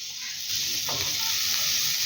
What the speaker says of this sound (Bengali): আলুর সাথে বেগুনটাকেও বেশ ভালো করে মিশিয়ে নেব এবং বেগুনটাকেও বেশ লাল লাল করে ভেজে নেব